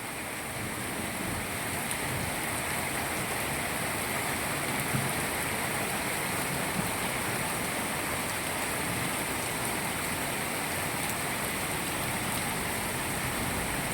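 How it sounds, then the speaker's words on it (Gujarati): Heavy monsoon rain in Gujarat pours down in a dense, unbroken hiss, steady and loud throughout with no pauses or voices. "જેવો વરસાદ જોઈએ એવો જ વરસાદ ચાલુ છે"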